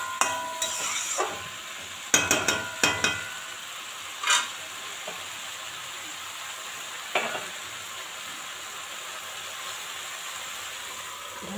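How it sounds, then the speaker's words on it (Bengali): Okra curry frying in a pan, stirred with a spatula: a steady soft sizzle under scattered scraping clacks of the utensil, a cluster of sharper strokes early on and a few lighter ones later, no talking. "নেড়ে চেড়ে নেব।"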